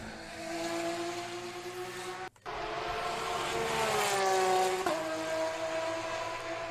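Race car engine at high revs with a brief gap then a sharp exhaust pop on a gear shift, the engine note sweeping and settling after; loud, continuous, no talk.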